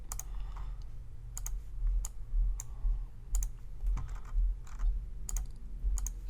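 Mouse clicks selecting color swatches for stone sets in report software, a series of sharp, evenly spaced clicks over a steady low background hum, fairly close.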